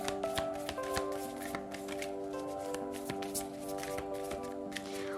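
Tarot cards being shuffled by hand, a continuous run of soft riffling and tapping flicks under a bed of droning background music.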